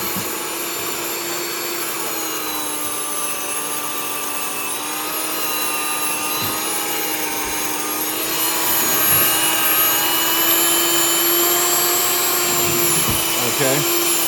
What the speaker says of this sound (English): while we're waiting for our rice to grind